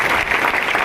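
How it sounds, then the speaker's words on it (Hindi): An audience at a recognition program in Ranchi claps loudly, a dense, even burst of applause that fills the whole brief moment. "तो इन लोगों के लिए एक जोरदार ताली होना चाहिए।"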